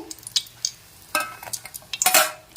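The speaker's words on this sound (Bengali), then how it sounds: "এখন আমি তুলে নিচ্ছি তেল থেকে" Fried flour sweets for Holi are lifted out of hot oil, with sharp metal clinks and scrapes of a utensil against the pan in short bursts over a faint low sizzle, close and fairly loud, with no talking.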